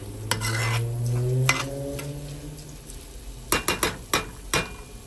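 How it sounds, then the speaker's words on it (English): A spoon stirs rice and vegetables in a cooking pan, with a low hum and soft sizzle at first, then a series of sharp scraping and tapping strokes against the pan, close and clear. "We're gonna mix everything, and then we're gonna add the water."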